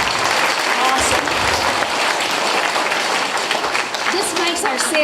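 An audience breaks into a big round of applause for the set decorators, dense and loud clapping that fills the room without a break.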